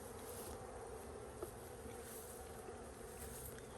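Honey bees buzz in a steady, soft swarm around a hive in a bee yard, a continuous faint hum with no talk over it.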